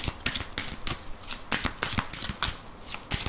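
Oracle cards being shuffled by hand during a reading, a steady run of crisp riffling and slapping bursts repeating roughly every third of a second, close and clear with no talking.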